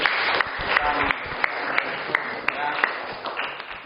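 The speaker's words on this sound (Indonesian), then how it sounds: "Oke, tepuk tangan untuk Pak Udi." Students in a classroom applaud their teacher, a brief burst of steady, regular clapping under a faint murmur of voices.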